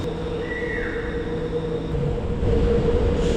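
A Singapore MRT train on the Changi Airport line rumbles steadily and loud nearby, with a sustained tonal whine and a faint rising squeal riding over the roar.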